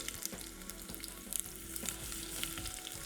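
Mustard seed, garlic, green chili and a dried red chili sautéing lightly in oil, a quiet, steady sizzle with faint crackles and pops, no voices.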